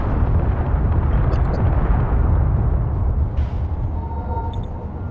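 Missile explosions in Space Engineers on a Mars survival map form a continuous loud rumbling roar, with a dense low-end wash and faint higher electronic tones over it.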